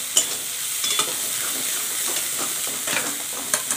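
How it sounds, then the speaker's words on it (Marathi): Masala being stirred and fried in oil in a pan, a steady close sizzle broken by repeated scraping strokes of the spoon. "छानपैकी मसाला असा परतून घ्यायचा तेलामध्ये."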